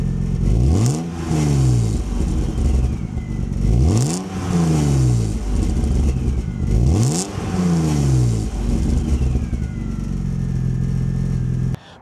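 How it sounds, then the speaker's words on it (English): A supercharged BMW M3 fitted with a full Dinan exhaust revs repeatedly, with three or four rising and falling engine sweeps and a deep throaty exhaust note, loud and close, ending abruptly. "This car is also equipped with a full Dinan exhaust, and it sounds great too."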